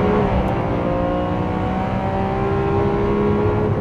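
A Lamborghini Aventador SV's V12 engine revs hard and continuously at close range, a dense, steady roar of rising and falling harmonics that holds loud throughout with no talk.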